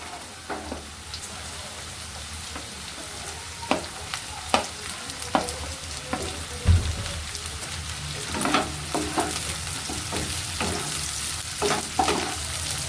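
Beans and carrots crackling and sizzling in a hot pan, a dense steady hiss broken by scattered spatter pops and utensil taps across the whole stretch.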